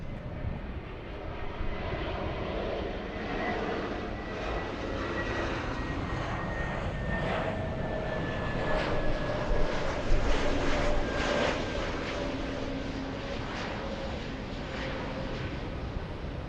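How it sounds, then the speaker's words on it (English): A Delta Airlines jet arriving at LAX from Seattle sounds a sustained engine roar with a descending whine, holding moderately loud throughout and alone without speech. "This arrival, we have Delta's 2914 flying in from Seattle, Washington."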